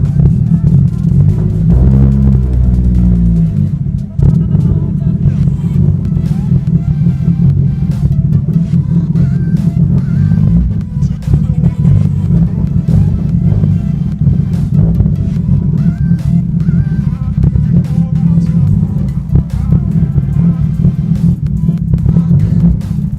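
A stage 3 modified car started after two months of sitting sputters to life, then idles loudly and roughly with a heavy low rumble and uneven pulsing, close and continuous before stalling.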